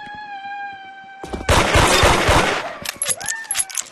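Peacemaker gun in the Arsenal video game firing very rapidly: a dense, loud burst of shots lasting about a second, preceded by a steady electronic tone and trailing off into scattered sharp clicks and pings.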